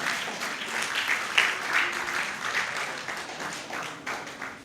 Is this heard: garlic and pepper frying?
no